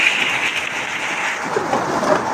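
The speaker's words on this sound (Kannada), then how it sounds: "ಬಿರುಗಾಳಿ ಮಳೆ." Windy thunderstorm with heavy rain outside a house, a thick continuous roar of downpour that stays loud and steady, with no distinct thunderclap standing out and no voices.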